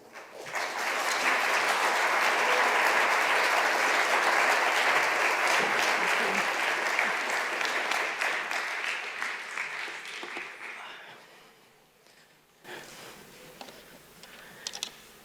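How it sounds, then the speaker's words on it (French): An audience applauds a guest speaker, Professor Kimberly Prather, at a formal evening lecture: loud, dense clapping that holds steady for about nine seconds, then fades into scattered claps and quieter room noise. "je vous demande d'applaudir et lui laisser le floor"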